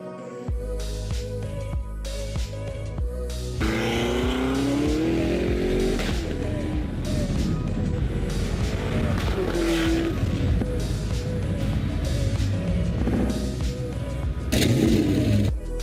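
A Bugatti Chiron Super Sport hypercar drives hard, its engine roaring and rising in pitch as it accelerates, with tire noise, under background music throughout.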